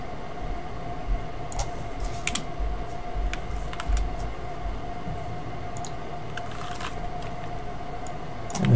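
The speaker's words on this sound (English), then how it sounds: "So I'm going to press the C key on my keyboard and use the crop tool." Computer keyboard keys are pressed while working in image-cropping software, producing a few sparse, faint clicks spread over a steady background hum.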